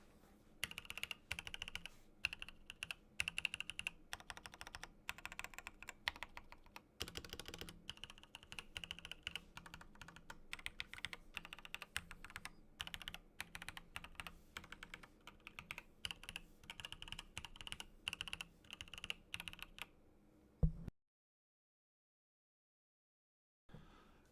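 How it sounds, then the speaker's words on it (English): Rapid typing on a Pulsar XBOARD MS keyboard, a dense run of close, clacky keystrokes that stops abruptly into silence near the end. "the keys over towards the edge of the board, do have a bit of a clackier sound to them"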